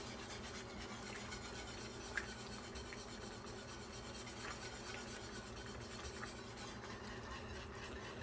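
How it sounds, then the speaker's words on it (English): Whisk stirring a sauce in a pan for coq au vin, a steady close scratching and scraping that runs continuously with faint clicks against the metal, no voices. "But we're just gonna keep whisking away."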